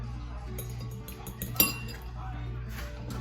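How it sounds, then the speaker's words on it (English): An egg is beaten in a bowl with a utensil, making light, quick metallic clinks and taps against the side, with one sharper knock near the middle. "So I'm mixing this. Just beat the egg."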